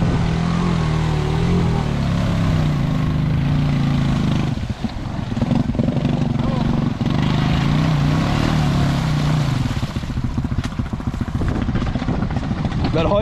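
A Honda Rancher 350 ATV runs close by with the throttle held open, a loud, continuous, rough engine drone with brief dips and surges, while people talk under the noise.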